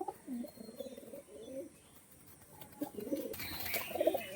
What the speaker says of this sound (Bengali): পায়রা ডাক করছে দেখেছেন